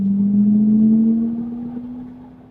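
A Smart #3 electric car plays its synthetic 'Smart Original' virtual engine sound: a steady, low droning hum that holds one pitch and slowly fades over a few seconds, with no voices.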